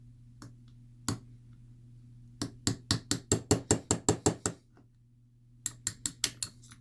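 A small hammer taps a punch against the mainspring pin of a Smith & Wesson 4006 pistol. A few isolated taps lead into a quick, regular run of about ten sharp metallic clicks, then another short burst, all close over a faint steady hum.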